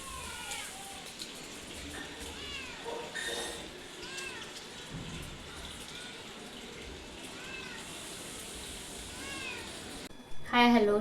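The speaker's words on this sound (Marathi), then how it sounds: "मांजराच्या पिल्लाला खाली उतरवता आलं नाही, त्यामुळे ती ओरडत होती" A kitten stuck up at a window and unable to get down mews repeatedly in high, wavering cries. A steady patter like rain or running water sits underneath, and a sharper, louder noise comes near the end.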